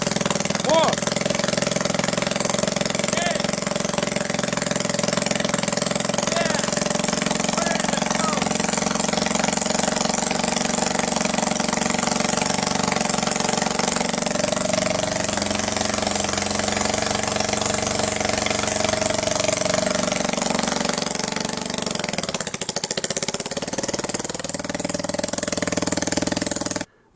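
A homemade rotary engine runs steadily and loud with a buzzing, harmonic drone, its pitch dipping and rising as the revs shift, while people talk nearby.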